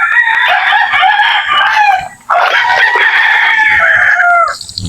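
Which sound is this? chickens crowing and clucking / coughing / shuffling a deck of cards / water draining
chickens crowing and clucking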